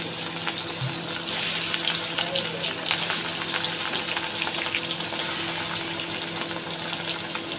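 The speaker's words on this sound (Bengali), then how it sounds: "এবার মাছগুলো, আমার তেলটা গরম হয়ে গেছে" Rohu fish pieces fry in hot oil in a pan, giving a steady, close sizzle and crackle with brief bursts of louder spitting, with no talking.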